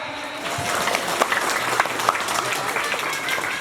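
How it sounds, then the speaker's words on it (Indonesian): A gathering at a Maulid Nabi celebration in a prayer hall applauds the organising committee, a steady, moderately loud patter of many hands clapping together without a break. "beri tepuk tangan yang meriah untuk panitia"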